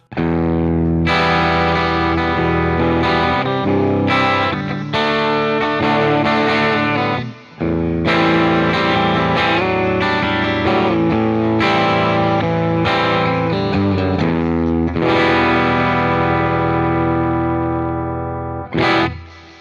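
Electric guitar, a Fender FMT Telecaster with humbucking pickups through a Fender Tone Master Pro wet/dry rig, playing continuous chords with distortion and chorus, loud and sustained, with a brief pause midway.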